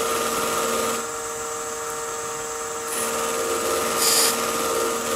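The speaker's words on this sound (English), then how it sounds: "So this is an 8-inch wheel and spinning at about 1200 RPMs." An 8-inch buffing wheel spins at about 1200 RPM against a natural-edge oak crotch bowl, giving a steady whirring motor hum with a brighter hiss swelling briefly near the end, close and alone without talk.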